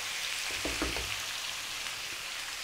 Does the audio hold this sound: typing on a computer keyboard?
no